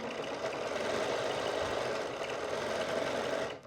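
A sewing machine stitches stretched elastic into a dress seam, running in a steady continuous whir from start to finish before stopping abruptly at the end.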